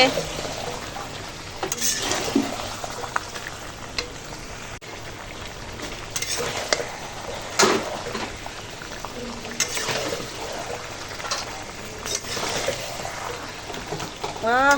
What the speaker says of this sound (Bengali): এখন আমরা কষানো স্টার্ট করব এখন মাংস কষানো হচ্ছে